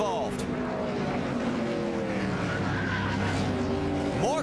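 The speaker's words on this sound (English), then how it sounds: "More cars still spinning in this multiple car crash." NASCAR race cars spin through a multi-car crash, their engines droning loudly with tire squeal and rising and falling engine whines around it, all heard under a commentator's voice.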